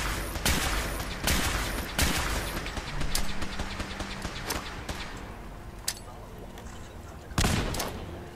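Invisible settler robots firing in the video game Fallout, a series of sharp gunshot bursts and rapid fire at varying intervals against game background noise.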